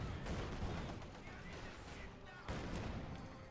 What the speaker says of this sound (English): The assault guns just keep bombarding.